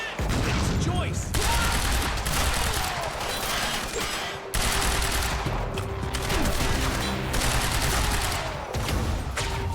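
Rapid shotgun and gun blasts in a Quantum Break firefight, loud and dense bursts of fire with brief pauses, layered with game voices calling out.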